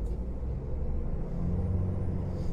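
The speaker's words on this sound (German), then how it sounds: "Und von vorne kommen die Autos." Road traffic from inside a half-empty moving truck in Scotland: a steady, loud low engine and road rumble with oncoming cars passing by, with no talking.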